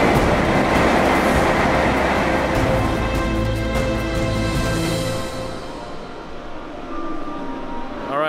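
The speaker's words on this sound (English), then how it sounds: "taking two different trains to weave us through the mountains" A train travels through the mountains of Japan, heard from inside as a loud, steady rumble with rhythmic wheel clatter and high squealing tones that fade to a quieter hum near the end.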